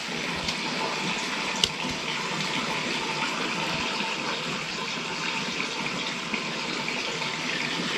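Water from ore processing at a small gold mine in Abra runs steadily toward a stream, a continuous close gushing rush with one sharp knock partway through and no voices.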